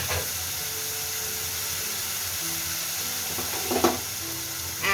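Masala with ginger and garlic paste frying in a pan, a steady close hiss and sizzle throughout with a few brief stirring scrapes near the end.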